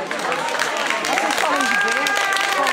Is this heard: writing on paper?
no